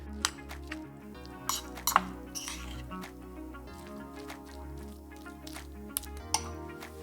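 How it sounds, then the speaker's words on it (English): Tuna filling being mixed with mayonnaise and chopped spring onions in a bowl, giving soft wet squishing with scattered clinks of a utensil against the bowl, steady and close with no talking. "mix everything together until it's all coated nicely in the mayonnaise"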